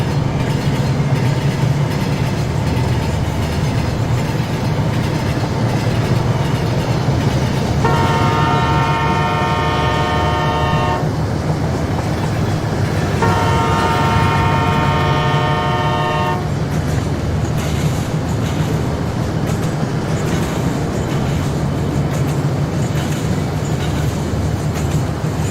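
Two model trains run in the Rolling Line VR railroading game, including an F7 locomotive, with a constant rolling rumble and clatter and two long horn blasts close together partway through.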